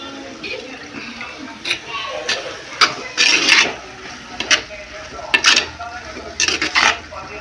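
A spoon stirs tomatoes and salt in a cooking pot, giving close, irregular metallic scrapes and clinks that come in short bursts over a low kitchen background.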